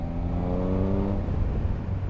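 A Triumph Speed Triple RS motorcycle engine pulls steadily under acceleration, a loud, close, even drone with a rising harmonic whine for about two seconds, no voices.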